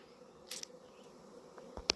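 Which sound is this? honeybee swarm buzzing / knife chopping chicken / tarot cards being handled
honeybee swarm buzzing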